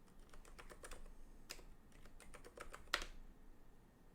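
Keys tapped on a computer keyboard while entering a username and password at a login prompt, a quick irregular run of soft clicks with short pauses and a sharper keystroke near the end, close and fairly quiet.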